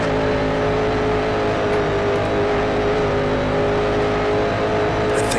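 A racing car engine held at full throttle in Grand Prix Legends, a loud, steady high-revving drone on a 1960s-style oval circuit with no talk over it.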